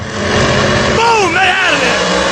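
Race car at a no-prep drag race at Maple Grove, its engine held loud and steady as the turbo spools, with rising whistling tones sweeping up over the roar while a commentator talks excitedly.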